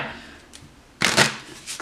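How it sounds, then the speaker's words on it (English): Tarot card deck being split and riffle-shuffled once, a quiet rustle followed by a brisk, close burst of card flutter. "let's split the deck and just shuffle once"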